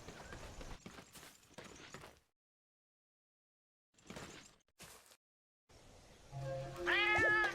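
A cat meows in the online video game Monster Hunter Online, a short, close call near the end that follows scattered soft footstep-like sounds and brief pauses of silence.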